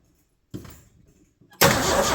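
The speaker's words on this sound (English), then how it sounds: "Crank test." A 1984 Ford F-250 truck engine cranks in two short bursts: a brief starter churn, a pause, then a second crank that catches into a loud, steady running roar.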